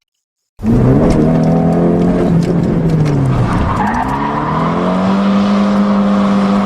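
A car drifting through a corner on a handbrake turn, loud and close, with engine revs rising and falling over sustained tyre squeal that begins abruptly after a short silence.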